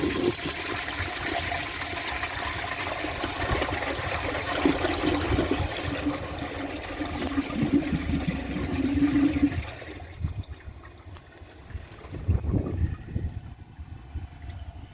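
An American Standard Plebe toilet flushing, a loud rushing torrent of water for about ten seconds, then dropping to a quieter refill trickle with a few gurgles.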